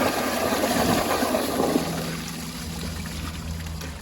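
An American Standard blowout toilet flushes during a fixture performance test, with a loud rushing gush of water that tapers into steady gurgling and trickling refill.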